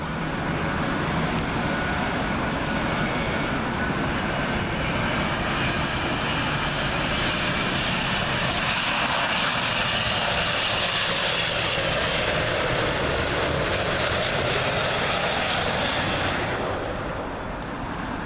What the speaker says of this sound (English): Up next, British Airways 777 coming in from Chicago.